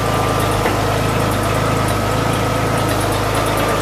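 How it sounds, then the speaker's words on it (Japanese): A 1953 Chevrolet 3100 truck engine idles steadily after starting, a loud close rumble with an even low throb and constant vibration, no voices. "とりあえず3100エンジンかかったので"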